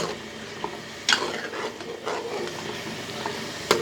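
Chicken karahi with green chillies stirred in a pan, Karachi restaurant style, with a soft scraping and a faint sizzle plus a few sharp metallic clanks of a spoon against the pan, no talking.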